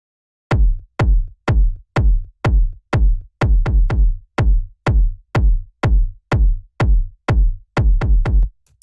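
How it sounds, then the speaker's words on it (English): Kick drum sample for an atmospheric house track, a punchy deep thump repeated about sixteen times in a steady, evenly spaced rhythm, loud and alone with no other sounds. "The next sound that we have here is the kick, which sounds like this."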